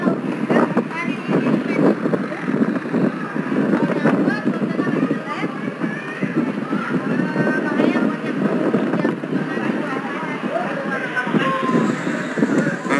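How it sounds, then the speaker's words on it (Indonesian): A strong storm wind blows across a seaside stage in Dadap, a loud, steady roar that buffets the microphone throughout with gusty surges. "Anginnya gebes-gebes guys."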